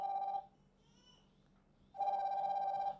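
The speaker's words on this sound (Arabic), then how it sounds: "خليني اعمل لك رنه كده واسمع معايا الصوت، صوتها حلو قوي يا جماعه" Incoming-call ringtone from a Hainoteko 7 smartwatch: two close, bright electronic melodic bursts, a short one then a longer one, separated by a quiet pause of about a second and a half, with no talking.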